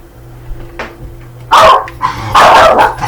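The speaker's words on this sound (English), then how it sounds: "The dog's barking." A dog barks a few times nearby, loud sharp barks coming in short bursts after a quieter start.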